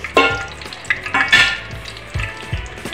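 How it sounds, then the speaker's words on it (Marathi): Bay leaves dropped into hot oil in a kadhai sizzle and crackle loudly, with bursts of frying and stirring clatter, for a Vidarbha-style spicy brinjal masala. "आपलं तेल चांगल्या प्रकारे तापलेलं आहे व इथे मी 3 ते 4 तेजपत्ते टाकून घेणार आहे"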